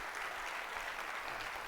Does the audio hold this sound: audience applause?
yes